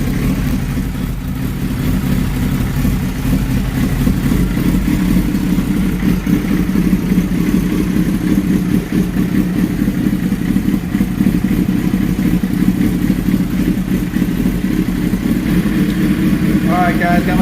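A motorcycle engine idles steadily, a continuous low rumble that holds even and loud for the whole stretch with no one speaking.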